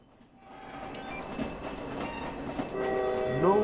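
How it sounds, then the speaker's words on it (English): A train rolling past in the Roblox game Jailbreak, a steady rumbling clatter of wheels on rails that builds and stays loud, with a rising squeal near the end and no talking over it. "I missed the freaking train."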